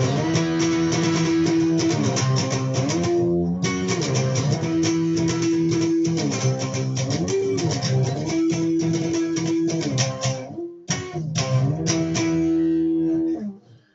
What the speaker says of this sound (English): the chorus, which is power chords on strings 3, 4, and 5